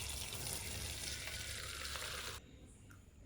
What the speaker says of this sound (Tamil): நம்ம வடிகட்டிடலாம்.